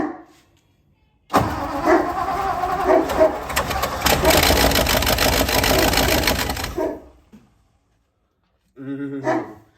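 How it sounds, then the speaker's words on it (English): A 1957 Lincoln's engine cranks and catches, then runs with a loud, steady rumble for several seconds before cutting off; a dog barks briefly afterward and people speak nearby. "Because the car's making noises."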